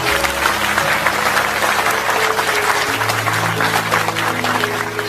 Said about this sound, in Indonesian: saya minta teman-teman tepuk tangan untuk beliau.